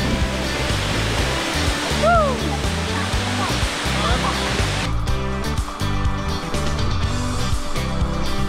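A waterfall in a canyon in Cebu, Philippines, heard as a continuous loud rushing roar of falling water, with a brief whoop of a voice partway through and the tone shifting slightly midway.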